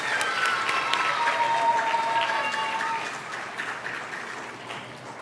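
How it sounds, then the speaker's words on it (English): An audience at a school Black History elocution contest applauds steadily, a broad wash of clapping that slowly fades while faint voices and a whistle-like tone drift underneath. "Let's give him another round of applause."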